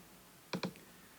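Two quick, close computer keyboard clicks sound in succession while an annotation is typed, with quiet room tone around them.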